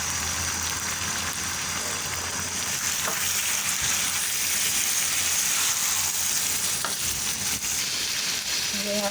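Chicken karahi sizzles loudly in a pan after yogurt is added. The frying hiss is steady and dense and stays close and continuous throughout, with no talking.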